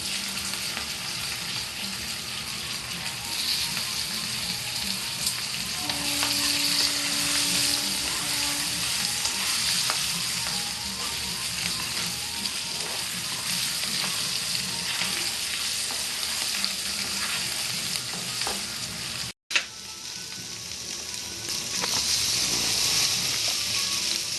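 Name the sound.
potatoes frying in oil with turmeric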